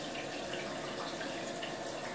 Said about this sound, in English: Okay, so I turned the water back on. The shower is on.